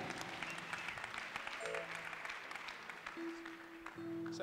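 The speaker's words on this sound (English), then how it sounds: "Clap your hands for our pastor." A church congregation claps for their pastor, a steady wash of many hands at moderate distance, with a few faint sustained tones drifting underneath.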